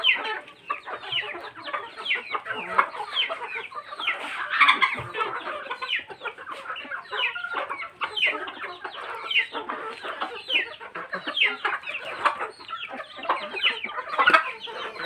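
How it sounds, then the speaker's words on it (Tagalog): A flock of chickens clucks continuously and busily at close to moderate range, with overlapping calls and a faint distant crow mixed in. "Yan po tita, yung mga manok mo."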